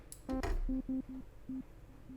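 Arturia Jupiter-8V synth tone repeating as delayed echoes with damping turned down, a bright attack that fades into plain, pure sine-like beeps at a steady rhythm.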